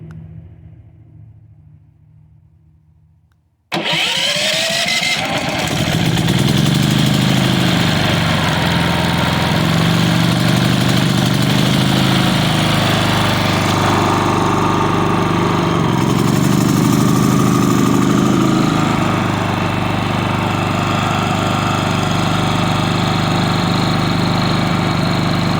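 A refurbished Westinghouse iGen 4500df generator, started by key fob, catches abruptly after a few seconds of quiet, then its engine runs loud and steady with a low, even drone.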